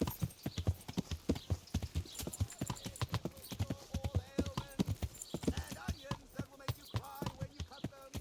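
A horse's hooves clip-clop in a brisk, regular rhythm in Kingdom Come: Deliverance, close and continuous, with someone talking over the steps at times.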